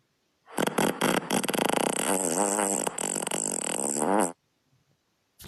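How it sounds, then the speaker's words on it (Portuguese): An alien-style fart sound effect from the Fart Sounds video game, a loud, long, buzzy blast lasting about four seconds with warbling, wobbling pitch and several brief breaks, ending abruptly in silence. "quando vocês ouvirem o som assim, ó... Quer dizer que vocês deram um peido de um alien."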